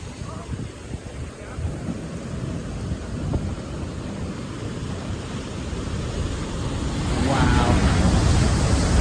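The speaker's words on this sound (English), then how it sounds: "a lot of these waves break on the beach and break against the jetty that I'm standing on right now" Ocean waves breaking on a beach and crashing against a jetty, a steady broadband roar of surf that swells louder toward the end, with wind noise and a voice briefly audible.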